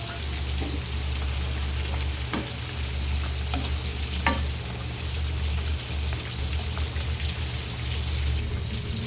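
Bitter gourd (ampalaya) sautés in a pan with a soft, steady frying sizzle over a low hum, punctuated by a few sharp utensil taps, fairly quiet and close with no speech.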